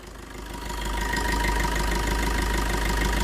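A 2019 Maruti Brezza ZDi diesel engine idling, a steady low rumble with a fine knocking clatter that swells in the first second and then holds a constant even drone.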